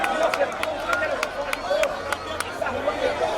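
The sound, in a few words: baseball5 crowd cheering after a run scores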